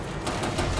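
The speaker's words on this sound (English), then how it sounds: "You hear all those little pop rivets going pop" Pop rivets on a damaged trailer give way as it is lifted during a highway recovery on BC's Highway 1, a quick cluster of sharp cracking pops over a rough mechanical din.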